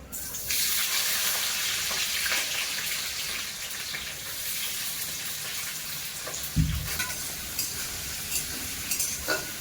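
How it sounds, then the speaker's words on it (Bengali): Thinly sliced medium onions frying in hot oil in a pan, a constant close sizzle with occasional stirring scrapes and one low knock, no voices. "তেলের মধ্যে তো পেঁয়াজ দিয়েছি পেঁয়াজ তো ভাজতে একটু সময় লাগবে"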